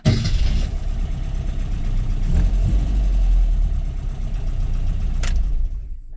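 A classic Mini's engine runs steadily at idle after being started, a loud, continuous low rumble with a slight uneven throb and no talk over it.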